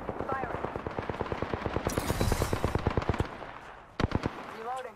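Rapid automatic gunfire in Apex Legends, a long steady burst of close, loud shots, then a short pause and a few final rounds.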